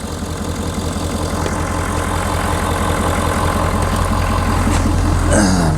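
A 2019 Ford F250 with the 6.7L diesel idles close by, a steady low rumble with a faint knocking tick, holding even throughout with a short whine near the end.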